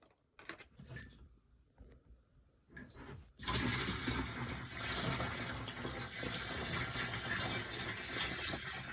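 Water gushes out of a camper van's onboard water tank after the plug is pulled, starting as faint trickles and then becoming a steady, loud, continuous rush into a drain.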